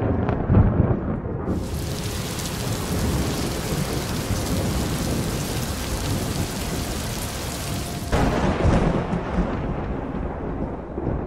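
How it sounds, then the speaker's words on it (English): A heavy thunderstorm with steady, loud rain pouring down and rumbling thunder; a broad roar that swells in the middle and eases slightly toward the end, with no voices. "During stormy days, thunderstorms hit the ground with incredible force"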